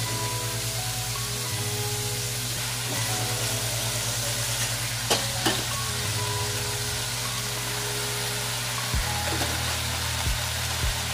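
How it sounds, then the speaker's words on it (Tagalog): Kangkong leaves being stirred into a hot pan: a constant, even hiss of steam and sizzle with a low hum beneath, broken by a few soft utensil knocks. "I-mix natin guys at ilalagay na natin yung dahon"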